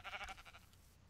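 Sheep bleating in Minecraft, a short wavering bleat or two up close, fairly faint, fading out after half a second.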